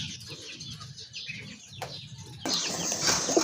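White Kagji pigeons clatter into a sudden loud burst of wing flapping after quieter soft rustling and faint bird calls.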